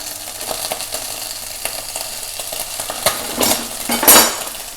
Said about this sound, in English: So you can see the mushrooms are sort of cooking away